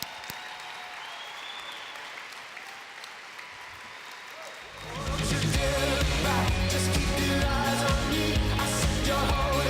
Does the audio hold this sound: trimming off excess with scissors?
no